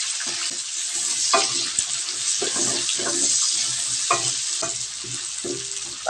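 Garlic and onion sautéing in a pan for pork cheek adobo, a loud close hiss of frying broken by repeated scraping and stirring strokes, with no one speaking.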